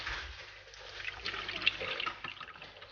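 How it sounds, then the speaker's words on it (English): A cream caramel mixture poured through a sieve into a bowl makes a faint, steady liquid trickle with a few small drips, soft and close, with no talking. "we are going to sieve in our mixture in this bowl"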